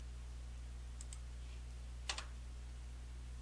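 Faint computer mouse clicks sound in WinCNC software: a quick double click early, then a slightly louder double click, both over a constant low electrical hum.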